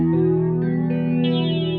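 Electric guitar run through an Ibanez Airplane Flanger AF2 pedal, a sustained chord with a swirling, sweeping flanged shimmer edging toward chorus, loud and steady with no talking.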